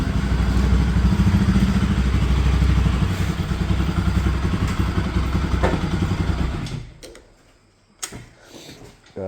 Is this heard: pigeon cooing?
no